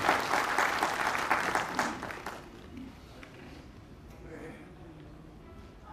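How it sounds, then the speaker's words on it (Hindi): Audience applause welcomes a guest at a bank's annual general body meeting: loud dense clapping for about two seconds, then fading into scattered claps and room murmur. "तालियों के साथ उनका स्वागत करें"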